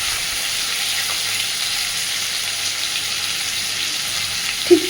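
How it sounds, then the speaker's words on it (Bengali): Potatoes fry in a pan with salt and turmeric, giving an even, continuous sizzle and hiss close up, with a faint stir and a light clink near the end. "আলুটাকে ভালোভাবে একটু ভেজে নেব।"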